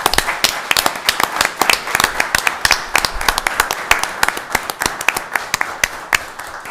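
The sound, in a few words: applause at a board meeting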